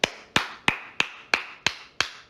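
One person claps slowly and steadily, seven crisp, evenly spaced claps close by, each ringing briefly before the next.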